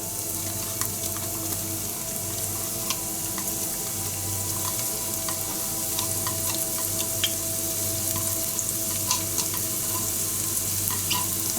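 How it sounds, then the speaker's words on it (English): Finely chopped onions fry in hot oil for a chicken roast, giving a continuous close sizzle with scattered crackles and light stirring scrapes throughout, no voices. "to this oil I will be adding finely chopped onions"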